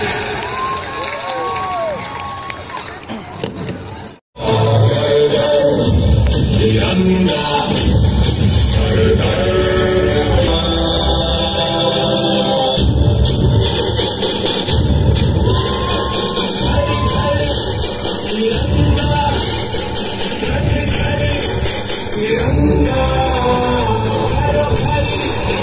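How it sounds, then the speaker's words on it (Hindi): Crowd applause and cheering for soldiers at a Republic Day celebration in Longding District, Arunachal Pradesh, loud and sustained with scattered shouts, following a brief drop. "सभी के लिए जोरदार तालियां।"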